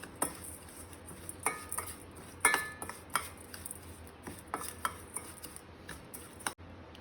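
A spoon clinks and scrapes against a metal pot as pickle spices are stirred into oil for raw mango pickle, making irregular close taps and scrapes over a quiet background, with one sharper knock midway and no voices.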